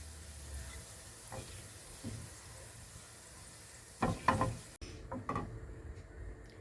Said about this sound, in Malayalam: നല്ലപോലെ മൂപ്പിച്ചെടുക്കാം, ഒരു ബ്രൗൺ കളറിൽ മൂപ്പിച്ചെടുക്കാം.